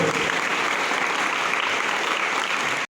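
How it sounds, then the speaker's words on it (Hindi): Enthusiastic applause from students and teachers at a school Doctor's Day celebration, a dense continuous roar of clapping at steady volume that cuts off abruptly. "एक बार जोरदार तालियां"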